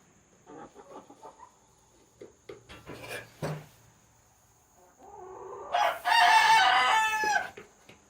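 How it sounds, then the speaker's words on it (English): Roosters crow loudly and close by in a chicken coop being cleaned with the deep litter method, a long harsh burst of crowing following earlier scraping and shoveling noises, with no talking. "And the roosters are obviously upset that I'm cleaning house today"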